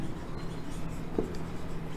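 Chalk or marker scratching on a classroom board, a faint steady scraping under low room noise, with one brief tap near the middle.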